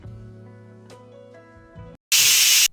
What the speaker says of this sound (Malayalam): ഇനി ഇത് നമുക്ക് കുക്കർ അടച്ചു വെച്ചതിന് ശേഷം ഹൈ ഫ്ലെയിമിൽ തന്നെ വെച്ചിട്ട് ഒറ്റ വിസിലിന് ഇതൊന്ന് വേവിച്ചിട്ടെടുക്കാം